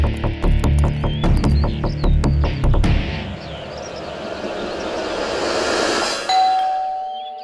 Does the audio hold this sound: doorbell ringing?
yes